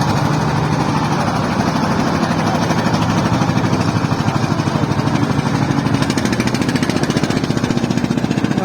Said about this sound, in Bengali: রকেট সার্ভিস ট্রলার চলে যাচ্ছে যাত্রী নিয়ে